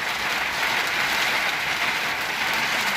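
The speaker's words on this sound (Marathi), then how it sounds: "पाऊस इतका जोरदार आहे" Heavy monsoon rain pounds steadily on a car and its windshield, a dense, loud, unbroken roar filling the whole stretch with no voices.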